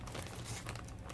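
Plastic bag of cards and stickers handled up close, a continuous crinkling and rustling for a moment with no voices.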